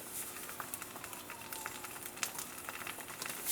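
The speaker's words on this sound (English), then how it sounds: "we're going to allow this egg to cook" Soft, steady crackling sizzle of an egg frying in a copper pan on an induction cooktop, with faint scattered pops throughout; quiet and close.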